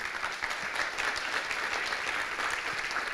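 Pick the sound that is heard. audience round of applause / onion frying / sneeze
audience round of applause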